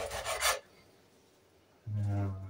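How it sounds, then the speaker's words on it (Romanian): A knife cuts through smoked ham hock meat in two close, rasping strokes separated by a short pause, loud and dry against a quiet background. "Acum o să ne apucăm și o să-l tăiem. Tăiem de ciolanul."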